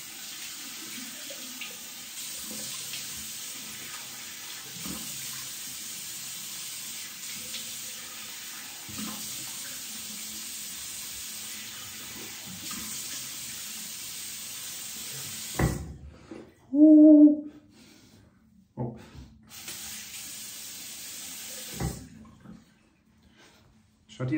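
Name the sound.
cold water running from a tap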